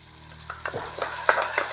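Pink noodles, dry noodles softened with yen ta fo sauce, stir-frying in a pan, with soft sizzling and scraping stir strokes tapping irregularly over a low steady hum.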